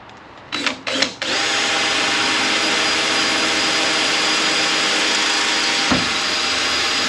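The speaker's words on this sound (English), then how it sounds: "Center that up with the drill." A power drill bores into a center mark, whirring in a couple of short bursts and then running in a steady, loud, continuous drone that lasts several seconds close to the listener during assembly of a replica 1957 Chevy ragtop.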